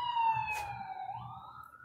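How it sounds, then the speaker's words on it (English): An ambulance siren wails in a steady, sweeping tone as the vehicle passes by at moderate distance, clear and continuous over faint low background rumble, with no talk. "Sirens going off. It's an ambulance."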